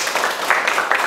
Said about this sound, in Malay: Tapi tepuk tangan lo untuk Bang Bandi